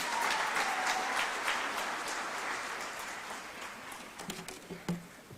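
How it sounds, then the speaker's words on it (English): Audience applause for a minister at a UN dialogue session, dense at first, then thinning into scattered individual claps toward the end. "One more round of applause for Honorable Filda Kereng"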